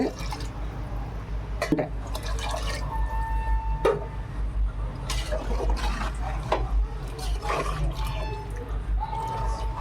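Water pours and splashes into a metal cooking pot with a hollow, bubbling rush, broken by a few sharp clanks of vessels, while cooking seeraga samba biryani.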